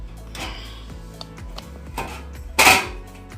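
Kneaded rice flour dough for Kerala idiyappam handled around a metal idiyappam press, with a few soft knocks and scrapes, then a louder clattering metal clunk near the end.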